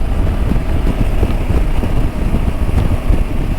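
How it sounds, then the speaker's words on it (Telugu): Strong, gusting wind buffets a motorcycle on the Cabot Trail. It makes a loud, continuous low roar of wind noise with no voices. "ఇక్కడ విండ్ బ్లాస్ట్ కొద్దిగా ఉంది"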